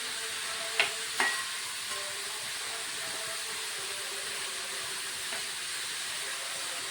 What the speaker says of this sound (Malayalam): അപ്പോൾ ഇത് വഴറ്റി കൊടുക്കാം നമുക്ക് നല്ലവണ്ണം